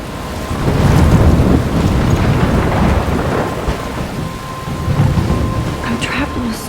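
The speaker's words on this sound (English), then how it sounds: "I'm trapped in a storm?" Thunder rumbles and heavy rain pours in a Life is Strange game scene, a loud, continuous storm wash with rolling low booms throughout.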